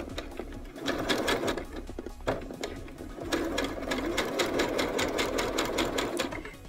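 A sewing machine stitches a folded hem on a backless evening dress with a train, running in rapid mechanical bursts with a few brief pauses.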